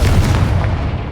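The Confringo blasting spell in the Hogwarts Legacy video game produces a loud, heavy explosive boom with deep rumbling low end. It holds through the brief moment without any voice.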